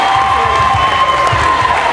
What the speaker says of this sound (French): Des applaudissements quand même pour les deux candidats déjà